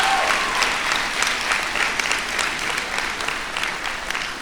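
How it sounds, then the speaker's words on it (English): The graduating Class of 2021 at William T. Dwyer High School applauds at the ceremony, a loud, sustained burst of crowd clapping that stays full for several seconds before easing slightly. "Give yourself a round of applause"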